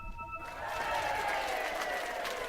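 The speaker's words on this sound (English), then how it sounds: "I'll give you a clap" Hand clapping during a live esports match broadcast, a dense burst of applause swelling in after a brief tone and holding steady, fairly loud and close.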